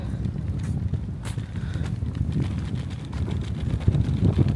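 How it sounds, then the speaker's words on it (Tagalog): Gusty wind buffets the microphone outdoors during a walk on a birthday outing, a steady low rumble with rustling across the whole stretch and a stronger gust near the end. "Mahangin pa man din."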